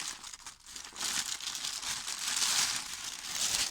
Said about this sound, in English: I'm sorry about the crinkling, guys.